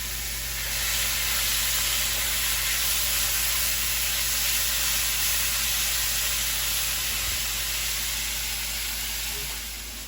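Seasoned meat for carne a la Mexicana cooking slowly in a pan, a steady, moderate sizzle with an even hiss that swells in and holds, no talking.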